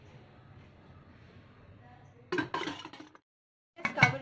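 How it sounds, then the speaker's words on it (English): A metal pressure cooker lid set in place over idli plates in a kitchen: two short clinking, clattering bursts of metal on metal after a quiet stretch, close and fairly loud. "Just covering it out with the pressure cooker lid"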